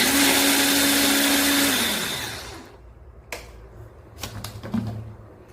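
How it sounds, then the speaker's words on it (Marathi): A kitchen mixer grinder whirs loudly for about two seconds while grinding ingredients for a cool summer sherbet, then spins down. A few clicks and knocks from the jar follow in the quieter remainder. "थोडं वेळ असं पुरं ग्राइंड करून घ्यायचं असं छानपैकी ग्राइंड करून घ्यायचं"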